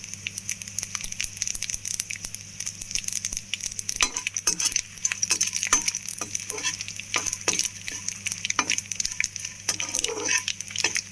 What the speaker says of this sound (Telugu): సో వెల్లుల్లిపాయలు వేగిన తర్వాత ఇలా ఎండుమిరపకాయలు వేసేసుకోవచ్చు. చూసారా ఆయిల్ ఎలా వేగిందో.